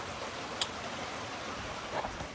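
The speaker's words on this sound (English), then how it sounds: "it's pouring rain and we're supposed to get some bad flooding" Heavy pouring rain hisses as a dense, continuous wash of noise, steady and fairly faint, with a couple of brief drip or tap sounds standing out.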